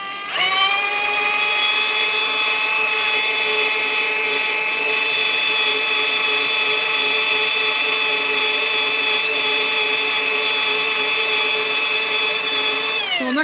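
A polisher buffs a Honeywell Turbovisor helmet, a steady high-pitched motor whine that spins up at the start and holds evenly for about twelve seconds before winding down, loud and close with no talk.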